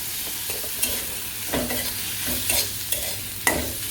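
Spice paste of garlic, ginger, dried red chilli paste, salt and turmeric powder fries in a pan, a steady sizzle broken by several scraping stirs of a spatula, close and fairly loud, with no talking.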